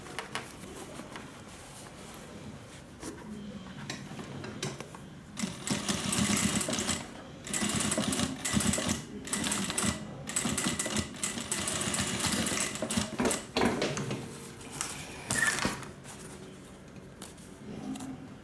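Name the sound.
sewing machine stitching over a sling bag strap section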